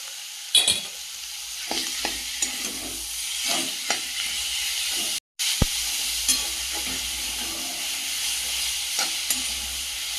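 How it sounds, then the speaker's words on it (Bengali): Radish greens sizzle in a hot pan with salt and turmeric, a steady frying hiss broken by scraping stirs and clatters of a spatula, close up, with a brief cut midway. "এই পর্যায়ে মূলো শাকটা দিয়ে দেবো।"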